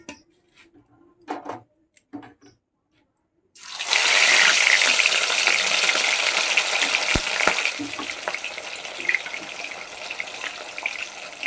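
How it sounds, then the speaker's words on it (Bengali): Fish fry in hot oil, opening with a few faint clinks and handling knocks before a loud, dense sizzle erupts and holds steady, close and continuous to the end. "তেলটা আমার গরম হয়ে গেছে একদম মাছগুলোকে আমি ভেজে নেবো"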